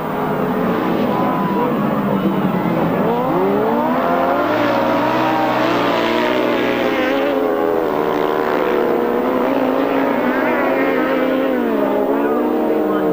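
Sidecar motorcycles race on a grass track in the early 1990s, their engines a loud continuous roar that swells and wavers as the outfits pass close by.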